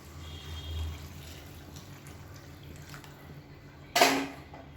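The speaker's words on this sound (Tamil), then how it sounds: "நான் வந்து ஒரு 500 ml அளவுக்கு தண்ணி சூடு பண்ணி வச்சுருக்கேன். அந்த தண்ணியை வந்து சேர்த்துக்கலாம்." Hot water poured into a pot of pakoda kuzhambu curry, a short sudden pouring splash near the end after a quiet stretch of kitchen background.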